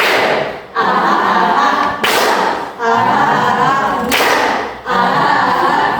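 Rhythmic group clapping in an Indonesian classroom spirit chant (tepuk semangat), with sharp claps and thumps landing in an uneven beat under continuous sung or chanted voices.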